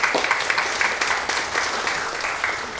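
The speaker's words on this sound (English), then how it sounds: "let's give everybody a round of applause" A church audience breaks into a round of applause, a dense, loud wash of many hands clapping at once, steady across the whole stretch with no talk.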